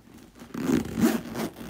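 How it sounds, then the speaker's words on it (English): The zipper of a 1986 Louis Vuitton Speedy 40 bag drawn quickly back and forth, two close scratchy pulls, near and alone with no talking. "and close the zipper"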